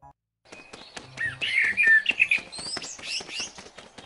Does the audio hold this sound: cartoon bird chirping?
yes